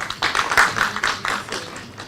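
Audience clapping at a university chemistry course event in Patiala, a short burst of scattered hand claps from a small group, close and uneven, with no talk over it.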